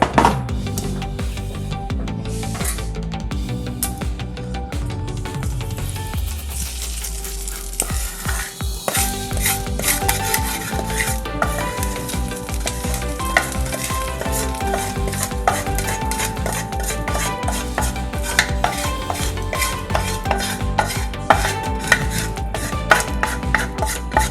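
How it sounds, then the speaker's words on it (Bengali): Fried spices are stirred into cooked rice for lemon rice: repeated scraping and tapping of a spoon against the pot, with a faint sizzle and clinks from the pan, close and moderately loud. "এবার এটা আমি ভাতের সঙ্গে মিশিয়ে নেব।"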